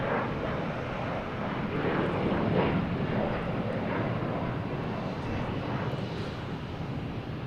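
A Delta Embraer E170 jet airliner roars steadily at Boston Logan airport, a broad continuous engine rumble from a moderate distance with wind noise, holding level throughout with no voices.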